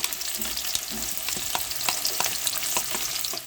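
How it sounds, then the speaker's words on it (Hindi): Garlic and onion sizzle steadily in a pan over a medium gas flame, with a constant frying hiss broken by soft stirring taps, close and without talk. "प्याज को हल्का सा सौते कर लिया।"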